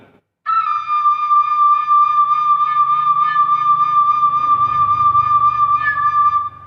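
A Thai bamboo flute holds one long, steady note with controlled breath, clear and close with no other sound around it.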